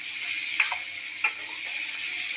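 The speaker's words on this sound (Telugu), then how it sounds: "అవి బాగా వేగనివ్వాలి" Pressure-cooked field beans fry in a hot oil tempering with a steady, close hiss, broken twice by brief clinks of a spoon stirring the pan; no one speaks.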